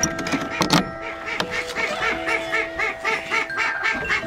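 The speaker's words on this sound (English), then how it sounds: "Oh, I hear the duck." A flock of ducks or geese honk and quack repeatedly, overlapping calls close by and fairly loud, with no talking.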